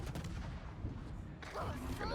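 USS Iowa battleship main guns firing in a naval combat game: a dense, heavy burst of gunfire rumble that swells into a sharper, louder crack partway through.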